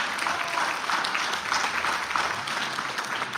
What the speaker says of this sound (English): I want to applaud Councilor Benavides.